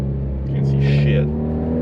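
A Ford Focus ST launches hard at a drag strip, its engine droning loudly in a steady low rumble that swells briefly while a rough burst suggests wheel hop, all heard from inside the car.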